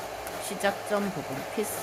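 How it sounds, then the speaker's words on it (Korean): A hair dryer blows a steady, loud rush of air while set in a holder during a hairdressing hair-colouring exam task, with a voice talking over it. "드라이기는 드라이 홀더에 꽂아서"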